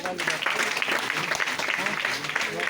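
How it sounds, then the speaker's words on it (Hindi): A seated audience at a meeting claps loudly, with steady, dense applause and voices speaking over it throughout. "एक बार उनके लिए जोरदार ताली"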